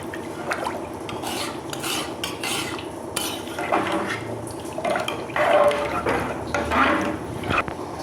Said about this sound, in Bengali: এবার দেখো আমি এই জলটা দিয়ে দিচ্ছি। জলটা দিয়ে আর একটু ভালো করে নাড়িয়ে নেব।